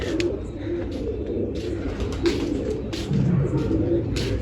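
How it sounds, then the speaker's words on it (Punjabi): Kept pigeons give a continuous low, throaty cooing that hums along steadily, with a few faint scuffs and taps over it, fairly close and with no speech. "ਨਾਲ ਇਹਨਾਂ ਗੜਕਣ ਲੱਗ ਪਏ ਨੇ ਕਬੂਤਰ ਜੇ"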